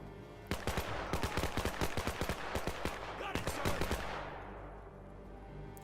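Rapid, steady bursts of gunfire from a WWII strategy video game set during the Allied invasion of France crackle for several seconds in a dense machine-gun-like rhythm, then fade into a lingering rumble.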